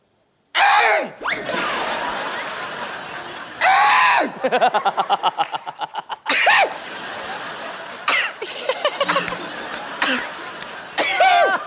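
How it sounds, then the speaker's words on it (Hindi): A woman makes loud, exaggerated throat-clearing and hacking sounds in repeated bursts, some rattling and drawn out, with gasping breaths between. "आप कब तक गला साफ करती रहेंगी?"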